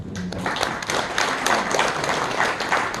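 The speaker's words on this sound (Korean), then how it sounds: "다시 한번 박수 부탁드립니다." An audience claps at the founding ceremony of a coalition of anti-Japanese revolutionary commemoration groups in a hall, with fairly loud, uneven applause and distinct individual claps close by.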